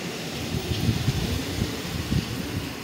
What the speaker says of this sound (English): Dude, look how windy it is.